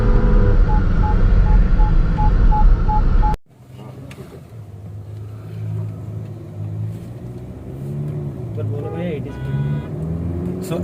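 A 2021 MG Gloster SUV accelerates toward top speed, a steady low engine and road rumble from inside the cabin, loud at first and then muffled after an abrupt drop, with someone talking over it.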